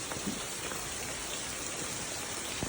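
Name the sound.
heavy rain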